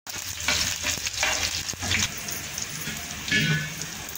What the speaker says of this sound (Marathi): मिरची चांगली परतू द्यायची, कढीपत्ता टाकायचा